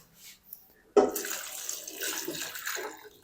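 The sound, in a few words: water poured into pan of cut potatoes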